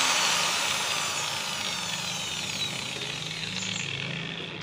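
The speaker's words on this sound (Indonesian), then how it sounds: "Mesinnya bagus, tinggal kita amplas kasar dulu untuk awal" An electric sander works a coconut shell with coarse sandpaper, giving a loud continuous gritty whir that holds steady throughout and fades slightly toward the end, with no voices.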